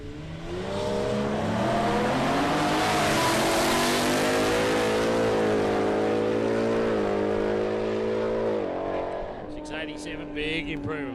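A 6-cylinder P8 Cortina and a supercharged Mustang launch in a drag race at Palmyra Raceway, engines roaring loudly and pitching up through the gears, with a commentator talking over them.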